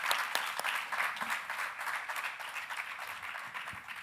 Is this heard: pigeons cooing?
no